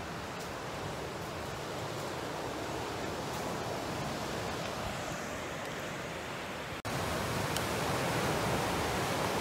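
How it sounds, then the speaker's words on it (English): Open-ocean waves wash steadily off an island shore near Kota Kinabalu, a broad continuous surging hiss, loud and close, with a brief dropout partway through. "This is the wide open ocean here."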